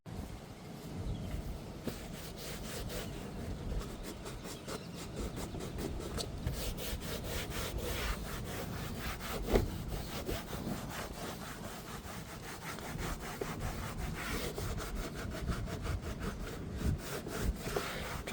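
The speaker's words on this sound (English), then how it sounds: "Let's get this cleaned off real good while I have it off" A Toyota 4Runner master window switch is scrubbed clean by hand, a close, steady rubbing and scraping with quick back-and-forth strokes running continuously throughout.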